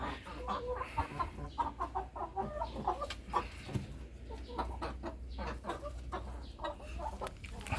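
Chickens cluck steadily in a chicken coop, many soft overlapping clucks in an irregular rhythm, close and moderately loud, with an occasional faint crow-like call and no talking.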